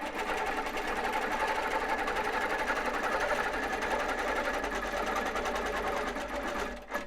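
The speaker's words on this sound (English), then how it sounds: "I'm going to keep stitching." A long-arm sewing machine stitches fabric for a pleated pillow, running in a steady, fast, continuous whir that fills most of the stretch before stopping abruptly near the end.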